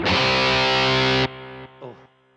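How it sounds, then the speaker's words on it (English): An electric guitar with intense 80s hair-metal distortion rings out in a loud sustained chord, then drops to a quieter held tone with a brief picked flourish before fading, played alone. "that's that 80s sound of intense distortion, but still not so high that it's going to feed back at any moment"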